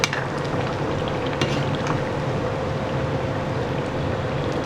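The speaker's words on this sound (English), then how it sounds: "I'll just mix all these things together" Biryani ingredients are mixed in a hot pan, giving a steady close sizzle and frying hiss with faint scraping and stirring taps throughout.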